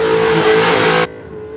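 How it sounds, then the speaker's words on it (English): A ute engine revs hard and loud on a drag strip, a sustained roaring blast lasting about a second that then cuts off, leaving quieter background rumble. "That ute sounded sensational down here."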